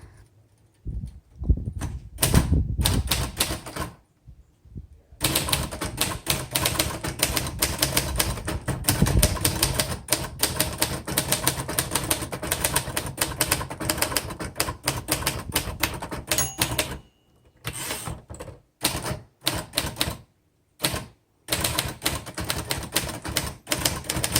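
A 1961 Royal Futura 800 manual typewriter is typed on rapidly and continuously, producing close, dense key clacks with a few short pauses and carriage sounds.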